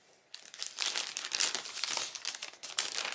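A plastic 1-gallon zip baggie holding cut sweet potato fries crinkles and rustles steadily and close, in bursts of crisp crackling with no talk.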